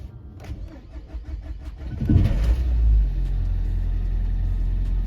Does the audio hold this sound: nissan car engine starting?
yes